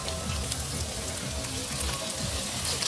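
Chicken liver and water lily stems fry in a pan in a village-style outdoor kitchen, giving a steady, close sizzle with soft bubbling and no talk.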